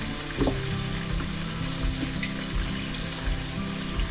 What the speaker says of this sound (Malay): bila kita nak goreng ikan kita tu lah kan